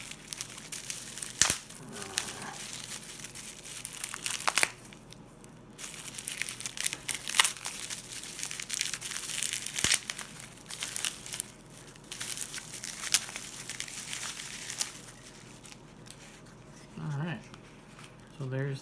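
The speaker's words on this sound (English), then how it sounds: "I'm gonna take it out of the bubble wrap if I can figure out how" A replacement Game Boy Pocket screen being pulled free of bubble wrap, with close, irregular crinkling and crumpling of plastic in bursts, spoken comments in between, and a brief tearing near the end.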